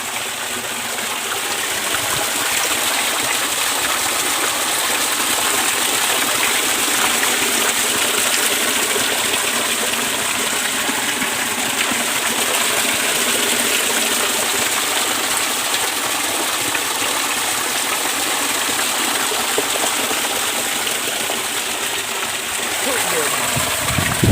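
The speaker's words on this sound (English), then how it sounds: "I want you to listen to this sound, the sound of the water. Like the way it is slapping" Steady, loud rush of a village stream at Nyabohanse, water slapping and splashing continuously over the whole stretch with no voices, only the broad churning flow.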